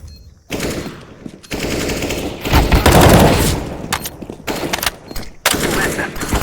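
Automatic weapon gunfire in the game Counter-Strike: Global Offensive during a bomb retake round, loud rapid bursts of shots in several close volleys separated by short pauses.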